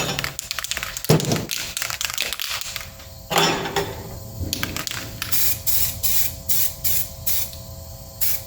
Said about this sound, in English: I'm going to go ahead and hit this with a little bit of weld primer as well.